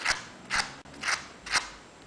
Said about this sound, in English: using a pair of scissors, pull the petal or curl it in one way and then the other also